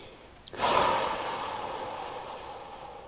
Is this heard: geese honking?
no